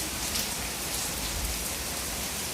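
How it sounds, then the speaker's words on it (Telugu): Steady rain falls across the whole stretch, a dense, even hiss of drops on surfaces with no voices and no thunder. "ఈ వర్షం వస్తుంది అనేసి"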